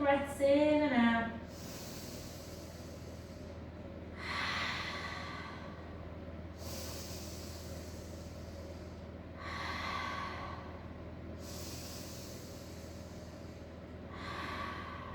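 Slow, audible breaths in and out during an intermediate Pilates balance and strength workout, with about four soft airy exhales spaced a few seconds apart over a quiet background after a brief sound at the start.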